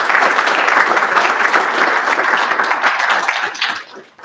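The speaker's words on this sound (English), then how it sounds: "let's give a round of applause for all of those" A round of applause rolls through the room at a college district board meeting, steady, dense clapping from a gathered group that holds for several seconds before quickly fading out.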